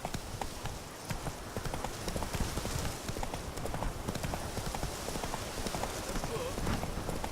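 Roach, the horse in The Witcher 3, trots with steady rhythmic hoofbeats on the ground, fairly close, amid a constant wash of rain and ambient noise, with a voice calling to the horse briefly.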